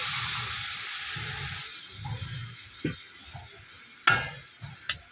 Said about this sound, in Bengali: এই কড়াইয়ের মধ্যে আবার পানি ঢেলে দেবো কাঁচকলাগুলো সিদ্ধ করার জন্য।